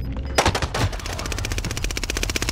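Automatic gunfire in an online shooter game, a close, loud burst of rapid evenly spaced shots after two heavier single blasts, no speech.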